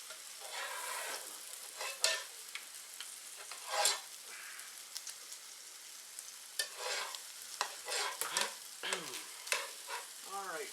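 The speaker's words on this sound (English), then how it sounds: "so just keep stirring that" A crab egg omelet mixture frying and being stirred in a pan, with a continuous crackling sizzle, repeated scraping strokes of a utensil, and a few louder spatters, close and without talk.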